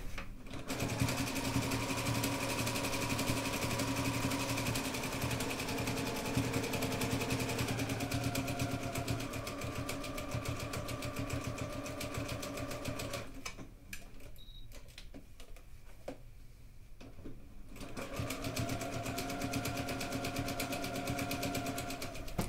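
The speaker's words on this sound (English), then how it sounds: "But don't be afraid to encourage it through your sewing machine." A sewing machine stitches steadily at close range, a rapid mechanical whir that pauses briefly before resuming at the same even pace.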